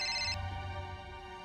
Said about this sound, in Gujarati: અત્યારે કોણ ફોન કરે છે આ કામ ટાણે?